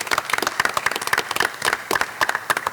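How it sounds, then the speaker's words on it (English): A crowd applauds steadily at a school board meeting, many hands clapping in a dense, even patter from nearby, with no voices standing out. "I think one more round of applause."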